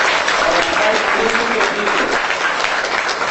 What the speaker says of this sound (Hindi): मैं सारे स्टूडेंट को अनुरोध करूंगा कि सहर्ष तालियों के